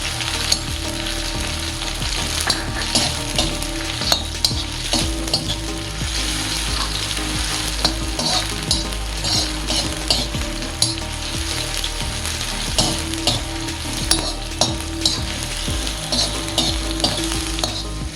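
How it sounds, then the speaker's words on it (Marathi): Tomatoes and onions frying in a pan for Nashik-style spicy misal, a loud continuous sizzle with scattered crackles and pops throughout, with no voices over it. "टमाटे पण थोडे कांद्यामध्ये फ्राय करून घ्यायचे."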